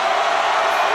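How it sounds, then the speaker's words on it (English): Crowd noise from the Fire Pro Wrestling World video game, a loud sustained roar of cheering throughout the short moment. "The crowd loves him. Listen to how loud they are."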